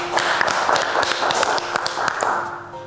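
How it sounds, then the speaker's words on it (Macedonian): In a cooking-competition studio, the audience claps for a judge: scattered, sharp hand claps that are fairly close and fade out toward the end. "ве молам, еден голем аплауз."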